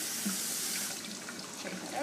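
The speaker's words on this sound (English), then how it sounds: "Hold the basket under some cold running water." Cold tap water runs over lettuce in a salad spinner basket, a steady hissing splash with small fluctuations, moderately loud and close, without talk.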